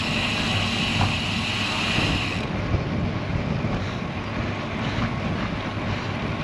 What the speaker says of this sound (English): Strong wind from my right front quarter.